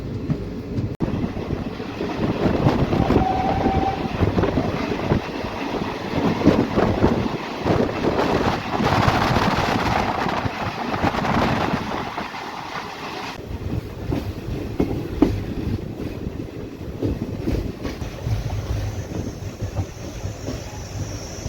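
The Pandharpur–Nizamabad Express, train 11414, runs on rails toward Latur, with a loud, continuous rumble and rattling carriages, wind buffeting the microphone and a steady clatter persisting throughout.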